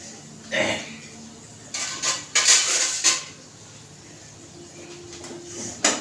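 A spoon clinks and scrapes against a cooking pot while chillies are stirred in hot tempering for dal, giving a few short bursts of metallic clatter with quiet gaps between them.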